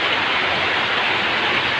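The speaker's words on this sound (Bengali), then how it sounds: "বাইরে ভাই কি বৃষ্টি হচ্ছে দেখো।" Steady rain pours outside as an even, hissing wash of sound, constant and moderately loud with no talk.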